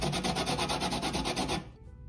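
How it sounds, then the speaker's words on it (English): A zester scrapes the peel of a lime in rapid, even strokes, a close and loud rasping rhythm that stops abruptly near the end. "So just zest one."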